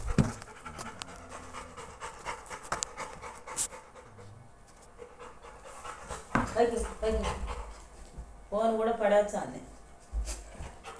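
Dogs pant in quick rhythmic breaths close by, with occasional whimpers and yips, while people talk over them intermittently.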